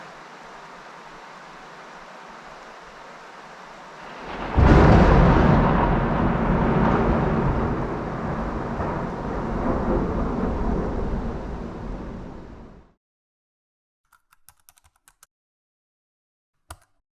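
Thunder from a lightning storm, a sudden heavy crack swelling into a long rumbling roll that lasts several seconds over faint rain hiss, then cutting to silence with a few small clicks.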